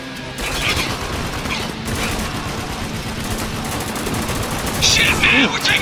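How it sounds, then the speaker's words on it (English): Sustained heavy automatic gunfire in Spec Ops: The Line clatters continuously at close range, with mechanical rattles and a sharper burst of shots near the end, while a voice talks underneath. "we're taking some heavy fire here"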